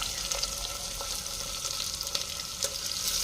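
Chopped large onions and a green chilli frying in a pan for vegetable biryani, a soft continuous sizzle punctuated by light stirring clicks and scrapes.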